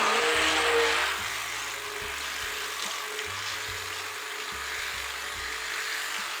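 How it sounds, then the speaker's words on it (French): A hand blender emulsifies oils and lye while making confetti soap, giving a steady, close motorized whir with broadband buzz. It is loudest in the first second, then settles to an even drone, with no talking. "on va utiliser un mixeur pour émulsionner toutes nos huiles"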